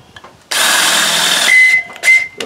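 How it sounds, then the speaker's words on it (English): A power drill runs in a steady, loud whirring burst for about a second and a half while boring a hole during fuel pump work on a Briggs & Stratton engine, then whines briefly and gives a short final spin. "Oh, I just detest this drill."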